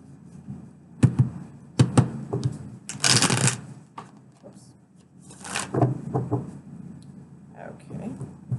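Tarot cards are shuffled in several quick, riffling bursts with pauses between, nearby, while soft talk comes and goes.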